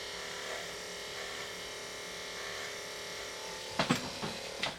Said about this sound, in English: So when you're doing it with the clipper, don't press too hard.